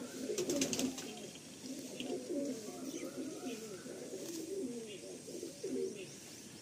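Racing pigeons resting in a loft coo in soft, rolling, overlapping calls close by, a steady low murmur with a few faint chirps and distant background noise.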